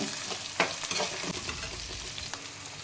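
Chopped shallots frying in hot oil for white rava upma, a steady close sizzle broken by a few sharp clatters of stirring, with no talking.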